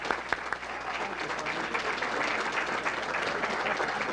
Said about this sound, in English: I'd like you to join me in a round of applause for a guy,